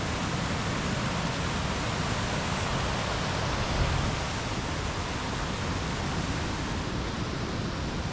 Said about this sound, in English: Got this river right against the road right there, and then it goes down into this waterfall down here.